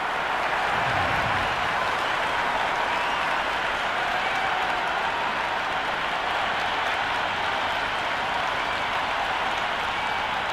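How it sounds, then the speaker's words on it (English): A cricket stadium crowd in the Cricket 26 video game roars and claps steadily at a T20 World Cup match between the USA and the Netherlands, a dense, continuous wash of noise with faint commentary beneath. "already the crowd making a hell of a racket"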